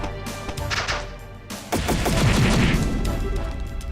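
A barrage of bombs goes off in a Trails in the Sky SC battle, dense crashing blasts and rumbling booms overlapping loudly, with a heavier thumping wave swelling in the second half.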